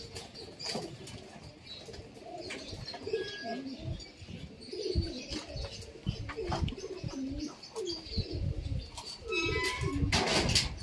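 Pigeons coo softly in a loft amid chirps and occasional wing flaps, with people talking faintly in the background and some handling noise.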